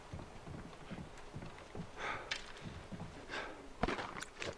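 Horses walking in The Last of Us on PS3 give an irregular clip-clop of hooves at a moderate distance, with a few sharper knocks and rustles mixed in.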